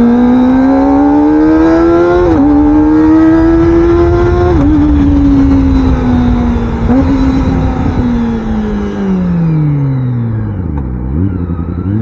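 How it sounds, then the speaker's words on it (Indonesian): A high-revving Kawasaki Ninja ZX25R sport motorcycle engine screams loud and close, climbing through several gear shifts, then the pitch drops as it slows. "enjoy Kawasaki ZX25R Pure Sound."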